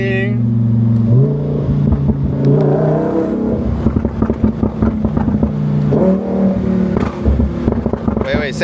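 A Lamborghini accelerates hard through a tunnel, its engine note rising through the gears with a shift about a second in and another later. The roar stays loud and close throughout, with wind noise and excited voices talking over it.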